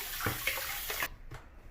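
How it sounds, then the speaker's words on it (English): Tap water rinses the shroud and cyclonic dirt-water filter piece of a Hoover Floormate Jet floor washer, a close, steady splashing gush for about a second before it cuts off, leaving a faint quiet tail. "really rinse out the shroud and the cyclonic dirt water filter piece"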